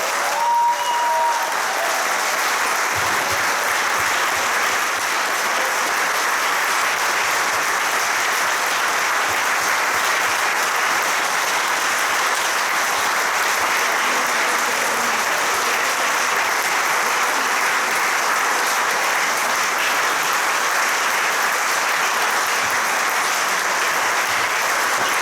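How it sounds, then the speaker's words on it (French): A church congregation applauds Pastor Benjamin at his pastoral consecration ceremony, a long, even wash of many hands clapping that holds steady at full loudness throughout, with faint voices beneath. "On peut l'applaudir."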